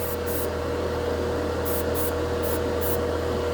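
Airbrush spraying nail polish onto plastic scale model parts, a short burst of spray pulses over a constant compressor hum, several quick hisses close to the listener with no talk.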